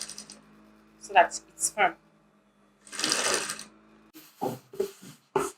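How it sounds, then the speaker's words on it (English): A sewing machine stitches and back stitches a zipper fly in short, close bursts with pauses between them, while a person speaks briefly between runs. "I'm going to stitch from here to here. And then I'll back stitch at this point"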